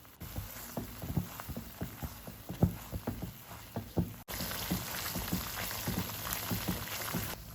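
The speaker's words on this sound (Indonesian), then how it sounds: "tinggal kita tumis saja sampai matang sambil terus diaduk-aduk" Ground spice paste for tom yam sautéing in a pan, a low sizzle broken by rhythmic scraping taps of a spatula stirring, steadier and brighter in the second half.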